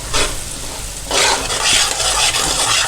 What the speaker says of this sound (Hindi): हल्की आंच पे हम इसको बिल्कुल हल्की आंच पे भूनेंगे